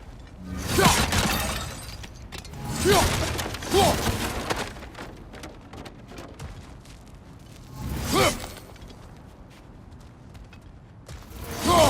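Objects smash and shatter in God of War Ragnarök, with four loud crashing bursts of breaking debris spaced across the stretch, separated by quieter mechanical rattles and whooshes, with no talking.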